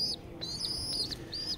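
Tiny young pigeon squabs in a home loft give thin high chirps in short repeated bursts, close and fairly faint, with no talking.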